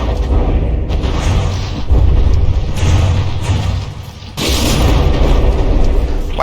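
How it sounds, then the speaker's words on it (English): Four shells strike and glance off the deck of a battleship in the naval combat game From the Depths, loud, heavy booming impacts in quick succession with a sharp burst near the end and no talk. "it's a shame those 4 shells just bounced off the deck of the Bubblegum without doing anything"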